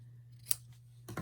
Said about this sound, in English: I will cut the strip.